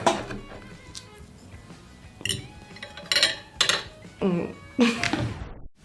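Cutlery clinks and scrapes against a plate as someone struggles to cut a steak, with a handful of sharp metallic taps and clatters spaced irregularly among people talking and laughing.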